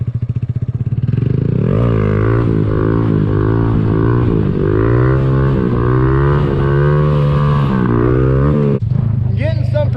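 A modded Honda Grom motorcycle engine drones loud and close for the whole stretch, its pitch rising and falling through throttle changes while the bike is held up in a wheelie.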